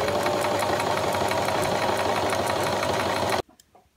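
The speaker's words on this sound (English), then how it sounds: "adjust the sewing machine accordingly and then we can start sewing." A sewing machine runs in a fast, steady mechanical stitching rhythm up close, then stops abruptly, leaving near silence.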